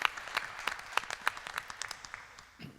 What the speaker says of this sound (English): join me in giving a round of applause for all of our candidates that are here today